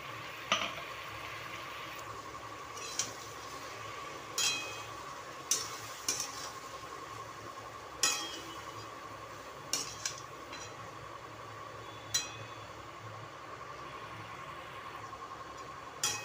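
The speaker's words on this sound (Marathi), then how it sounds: "आता हा मसाला बघा तेल सुटेपर्यंत चांगला भाजला आहे." Dry brinjal curry masala fries in oil in a pan, a steady soft sizzle broken by regular sharp scrapes and clanks of a spoon stirring roughly every second or two, close and unaccompanied by voices.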